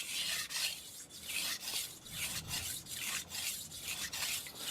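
Long, rhythmic knife-sharpening strokes on a hard 1000 grit whetstone, a steady rasping scrape repeating roughly every half second, close and fairly loud with no talking.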